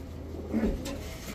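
A single soft, low pigeon coo, brief and muffled against faint background noise.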